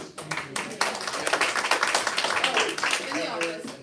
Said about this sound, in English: we really just owe you guys a big round of applause